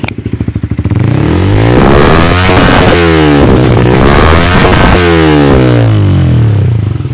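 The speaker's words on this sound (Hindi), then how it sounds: "अब सुनाता हूँ आपको एग्जॉस्ट की साउंड इसकी किस तरीके की आने वाली है, ये देखिए ये आपकी साउंड आइडल पर हो गई" A Yamaha R15 V4 motorcycle with a full-system R9 aftermarket exhaust, loud and close, putters at idle, then revs repeatedly with rising and falling engine pitch.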